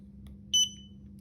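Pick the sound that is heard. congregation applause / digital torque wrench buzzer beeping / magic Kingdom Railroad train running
digital torque wrench buzzer beeping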